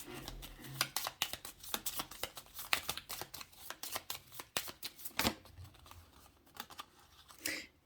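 Playing cards shuffled and handled on a table, a steady run of close, crisp riffling flicks and slaps with a few louder snaps, no talking.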